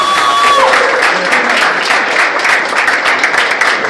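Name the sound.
audience applause at a jazz concert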